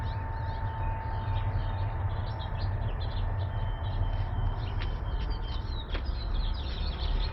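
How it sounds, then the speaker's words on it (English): Faint birdsong chirps and tweets scattered through a steady low outdoor rumble, the calls distant and soft, with no one talking. "Listen to the birds singing."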